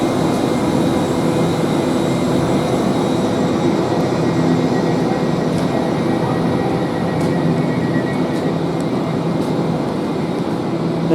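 Steady, loud rumble and hum of a TfL Rail Class 345 electric train running between West Ealing and London Paddington, heard from inside the carriage, with continuous low roar, faint whine and a few light clicks.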